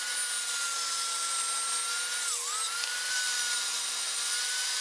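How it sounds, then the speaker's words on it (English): A power saw cutting wood along marked lines for a queen-size bed frame, a steady loud whining drone with a brief dip in pitch partway through, continuous and without speech. "Now we're going to cut along the lines that we marked."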